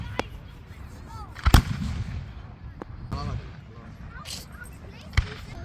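Fireworks at America's 250th birthday celebration, booming in a few sharp blasts with crackling in between at moderate distance, while people talk over them throughout.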